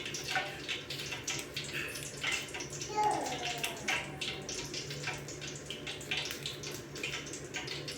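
Water from a tap splashes steadily while a potato is washed by hand at a kitchen sink, with close sloshing and splattering throughout.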